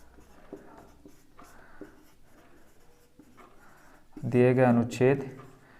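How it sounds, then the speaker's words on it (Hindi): Pen writing out a maths solution on paper, soft scratchy strokes in short bursts beneath someone talking in Hindi, louder speech toward the end. "तो यहाँ हम लिख देते हैं"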